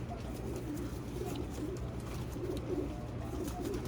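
Soft racing pigeon coos repeat at a steady pace over a low background hum, fairly close but quiet.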